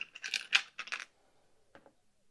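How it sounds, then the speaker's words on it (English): Dice rattle and clatter across a table during a board wargame in a quick burst of sharp clicks, then go quiet before a couple of faint, final taps as they settle. "this red dice is rolling pretty high here"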